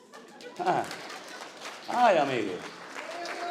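A church congregation breaks into scattered applause during a sermon, the clapping rising under a preacher's voice and exclamations from the room.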